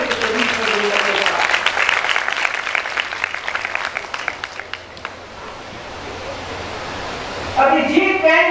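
Audience applause at a governor's speech in India, a broad wash of clapping filling the first half with a voice over it, then fading into steady noise before speech returns near the end.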